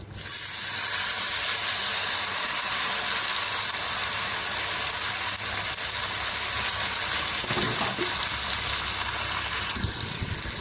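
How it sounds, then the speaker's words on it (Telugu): Tomatoes, onion and curry leaves fry in hot oil, a loud steady sizzling hiss that fills the whole stretch, with a brief stir or clatter near the end. "చూడండి ఫ్రెండ్స్, టమాటాలు, ఉల్లిపాయ, కరివేపాకు వేసుకుంటున్నామండి."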